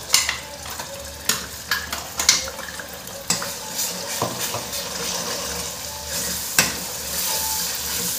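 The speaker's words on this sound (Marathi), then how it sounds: "त्याला चांगलं वाटण केलेलं त्याला चांगलं परतून घेतलं" Ground masala paste being sautéed in oil for a drumstick (shevga) curry, with a steady close sizzle, scraping stirs and several sharp clinks of a spoon against the pan.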